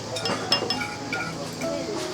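Glasses clink together in a beer toast at Porto Palermo, Albania, with a few light chinks over a murmur of background voices.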